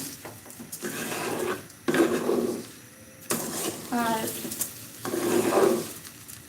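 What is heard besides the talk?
rice frying with cinnamon, cardamom and bay leaves in pan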